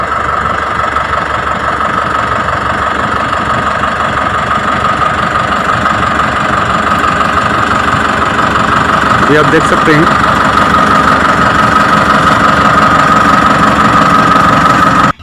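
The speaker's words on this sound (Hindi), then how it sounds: "अभी देखिए ट्रैक्टर रिवर्स पे आ रहा है तो पीटीओ भी रिवर्स पे घूम रहा है" A tractor engine runs steadily at a low, throbbing idle while reversing with the PTO spinning in reverse, with a person talking over the constant mechanical drone.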